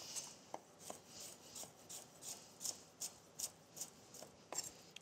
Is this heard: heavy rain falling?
no